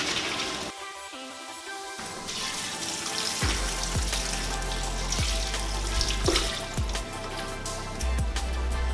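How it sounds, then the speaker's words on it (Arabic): Bean cooking water from a pot of mixed broad and small beans is poured into a metal colander in a kitchen, a steady splashing gush with thumps as the stream shifts, close and fairly loud. "هلا بدي كب مية الفاصوليا، رح كبهم"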